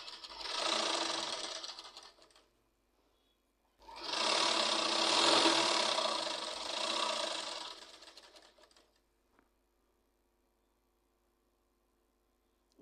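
A sewing machine stitches a fabric rope in two quick bursts of fast, steady mechanical whirring, then falls quiet apart from a faint click near the end.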